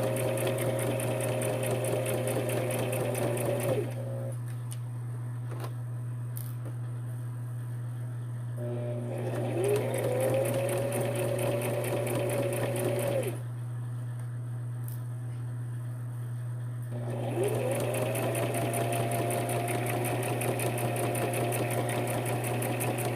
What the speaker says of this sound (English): Make sure your needle is down in the fabric before you start sewing.